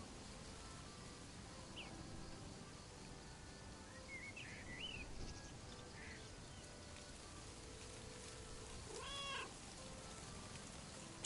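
A cat meows a few times in short faint calls, heard distantly over a steady outdoor ambience with light background noise and no talk.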